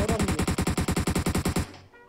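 Rapid automatic gunfire from a video game shooter, a steady burst of about twenty evenly spaced loud shots that stops abruptly and leaves a faint tail.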